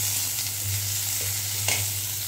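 Ginger and garlic paste frying in hot oil along with bay leaf and whole cinnamon, a steady close sizzle with a low hum underneath and a brief stirring clink near the end.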